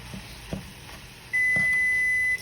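An oven preheated to 350 degrees gives one long steady electronic beep, loud and close, after some faint kitchen clatter.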